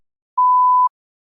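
One pure, even beep lasting half a second rings out clearly against silence, the prompt signal of a TOEFL speaking practice test.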